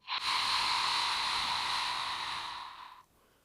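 A single long, steady breathy exhale during a core workout repetition, loud and close, lasting about three seconds and fading out at the end with no talk over it.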